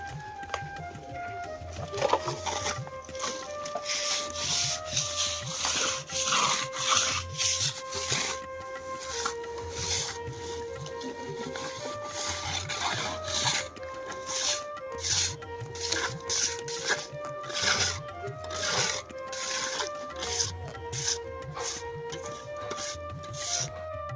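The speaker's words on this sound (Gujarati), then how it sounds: "અહીંયા માલ નાખવાનું ચાલુ છે" Mortar slapped and scraped onto a house wall during plastering, a steady run of rasping trowel strokes and soft thuds with clinking tool tones over about twenty-four seconds, no talking.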